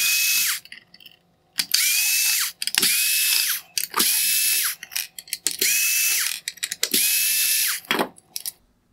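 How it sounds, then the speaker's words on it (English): A small powered driver backing out T10 Torx screws from a 2019-2021 Porsche Cayenne LED headlight, a series of about six high whirring bursts with a rising pitch, separated by clicks and short gaps, close and loud. "Next, I will begin removing the T10 torque screws."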